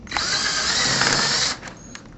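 A power drill whines at high speed pre-drilling a screw hole for a door hinge, a steady close buzz for about a second and a half, then stopping with a few brief trailing clicks.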